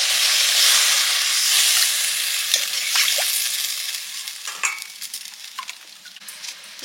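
Water poured onto fried spice paste in hot oil, a loud burst of steamy sizzle and hiss that gradually fades, with stirring scrapes and light pan clinks close by.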